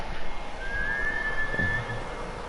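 Kaze, a horse in the Ghost of Tsushima video game, neighs once in a drawn-out, high whinny over steady game background ambience.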